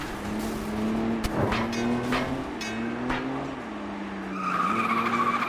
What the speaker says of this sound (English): I can hear other drivers' engines.